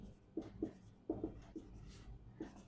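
Chalk or marker writing on a board during a physics class, a few short scratchy strokes in quick bursts, close and fairly faint with no talking over it.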